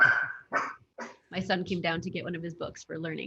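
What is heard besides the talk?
dog barking in the background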